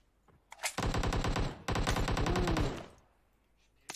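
Rapid automatic gunfire from the PUBG Mobile battle royale game on the Livik map, two loud sustained bursts of closely spaced shots, near and dominant, with a brief gap between them and quieter moments before and after.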